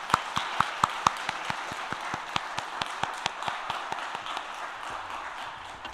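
A church congregation at a Korean mission devotion service claps for the mission officers in a steady, evenly paced rhythm of sharp claps that continues throughout.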